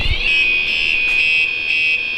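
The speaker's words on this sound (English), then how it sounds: "I set off both my alarms on my bikes." Two motorcycle alarms go off together, a loud, steady, high-pitched electronic wail that holds continuously without pause, close by and alone.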